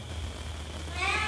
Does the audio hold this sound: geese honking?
no